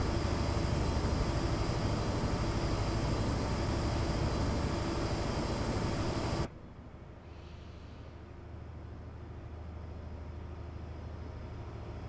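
An HST train speeds toward the listener in Train Simulator 2021 on the Western main line from Penzance to Plymouth, a loud, dense rushing roar that cuts off abruptly partway through to a quieter steady rumble.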